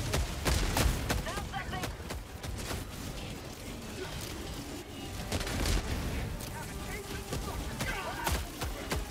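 Rapid gunfire from weapons in the video game Helldivers 2, with dense bursts and sharp shots that repeat through the scene under a rumbling blast-filled background, while a person talks over it.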